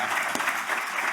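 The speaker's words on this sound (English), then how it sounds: "You can clap for the panel." Audience clapping for a panel at the Big Irish Campfire 2022 gathering, a brief, dense burst of many hands applauding at a steady level throughout.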